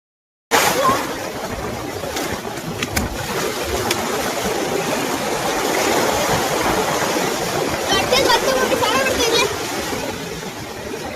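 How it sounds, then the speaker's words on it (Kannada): Ocean waves wash in steadily at a beach in Chennai, a broad continuous roar of surf with splashing swells, while people talk faintly in the background. "ಇವಾಗ ಇವು ಅಲೆಗಳು ನೋಡಿದ್ರೆ ಭಯ ಆಗುತ್ತೆ ಒಂದೊಂದ್ ಕಡೆ"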